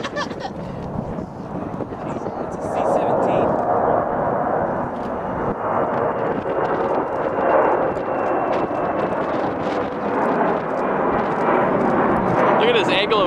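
Boeing 747 carrying the Space Shuttle on a slow, nose-high low approach makes a loud, sustained broadband jet roar that holds steady throughout, with people talking over it.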